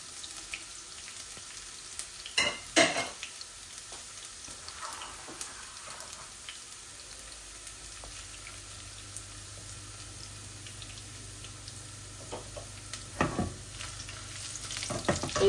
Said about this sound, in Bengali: আর দিব আমি শুটকির মধ্যে 4-5 কোয়া রসুন। এই যে 4-5 কোয়া রসুন দিচ্ছি।